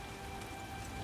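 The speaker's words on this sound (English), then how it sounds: "What a downpour." Steady rain pours down in a dense, even hiss in the video game The Witcher (2007), with no voices.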